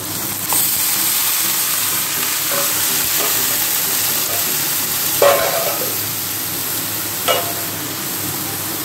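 Khesari greens fry in mustard oil with garlic and green chili, a steady close sizzle running throughout, with a few brief scraping stirs of a spatula standing out over the constant hiss.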